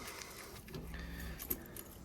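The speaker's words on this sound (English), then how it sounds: "Let me find the keys. They're in my pocket." Keys jangle and clink as they are pulled from a pocket beside a Plymouth car being worked on, with a brief bright metallic rattle over low background rumble.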